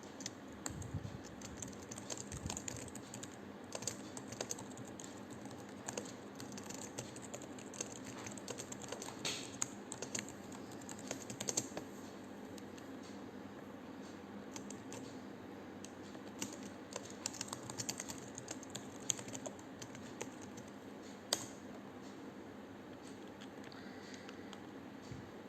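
Steady light keyboard typing runs throughout at a low level, with a faint background hum and no talking.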